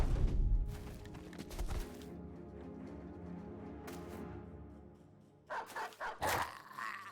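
A dog barks in the medieval mercenary game Battle Brothers: a loud burst of barks opens, followed by quieter yips and whimpers, then another cluster of sharp barks near the end.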